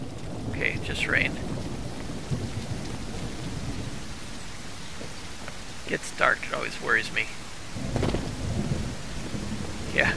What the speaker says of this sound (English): Okay, just rain.